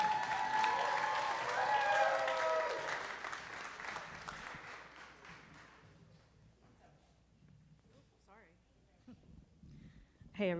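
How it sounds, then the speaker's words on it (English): Audience at a citizen project pitch competition giving a round of applause, loud at first and then thinning out and fading, with a voice speaking over it as it dies down. "Round of applause."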